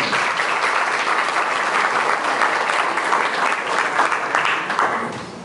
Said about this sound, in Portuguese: E eu queria pedir uma salva de palmas para eles também.